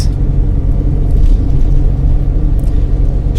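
Car interior during a driving lesson, a steady loud low engine and road rumble throughout with no break.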